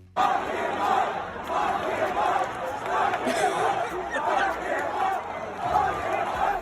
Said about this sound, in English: the crowd started chanting, "Lock him up."